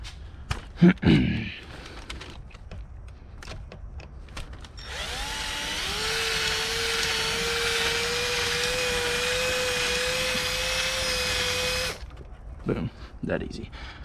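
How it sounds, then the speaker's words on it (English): A power drill whines steadily for several seconds drilling the head off a metal rivet on Audi S5 quarter glass trim, then stops, with scattered clunks and handling noises before and after. "It's very difficult to actually drill the head off that rivet."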